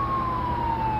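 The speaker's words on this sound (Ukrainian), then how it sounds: "Так, це пожежна машина поспішає на виклик." A fire engine siren wails steadily, slowly falling in pitch, loud and continuous over a low rumble of traffic.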